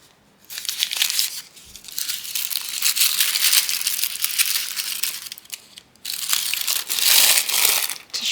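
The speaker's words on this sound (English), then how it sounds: "Tissue paper." Tissue paper crinkles and crushes in a continuous, close rustle that pauses briefly twice before resuming, handled while unpacking a miniature craft kit.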